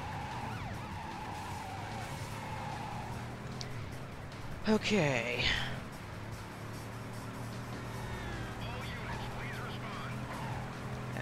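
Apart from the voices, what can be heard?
Rolls Royce car chased by police with sirens in video game Driver 3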